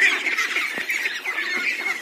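A continuous chorus of high, chirpy peeping from a group of ducklings about 53 days old, steady and close, with no talking.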